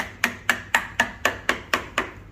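Eight evenly spaced hammer strikes driving a nail into floor baseboard trim, sharp metallic knocks at a steady rhythm, close by with no talking.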